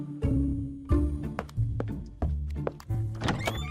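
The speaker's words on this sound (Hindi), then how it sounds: "वैसे ही दरवाजे पर खटपट की आवाज हुई।" Knocks land on a wooden door as an audio drama sound effect, a series of loud, close, hollow thuds in an uneven rhythm with short pauses between them.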